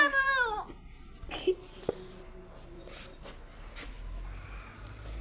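A cat meows a few times up close, with a drawn-out cry at the start and shorter calls after, over a quiet room.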